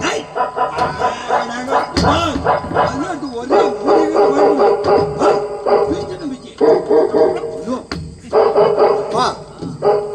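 Street dogs barking repeatedly and loudly in a Tamil stage drama, the rhythmic barks mixed with howls and yips, with people talking over them throughout.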